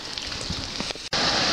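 Rain falls in Germany as a dense, steady hiss across a short stretch, with a brief dip before the wash of rain returns louder.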